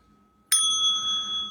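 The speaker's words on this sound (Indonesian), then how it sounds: "Satu orang bilang ini bel meja, katanya, boleh nggak?" A table bell is struck once with a sharp metallic ding that rings on in a clear, sustained tone before slowly fading.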